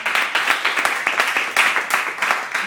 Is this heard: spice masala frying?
no